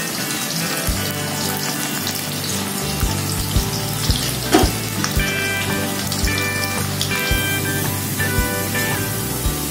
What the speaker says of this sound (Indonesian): Ini petenya kita goreng sampai garing ya.